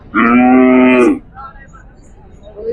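A bull at the Kashti cattle market lets out a single loud, close moo lasting about a second, followed by quiet background market noise.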